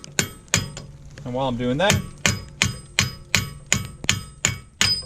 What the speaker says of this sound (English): put my bolt back in, and tap it the rest of the way through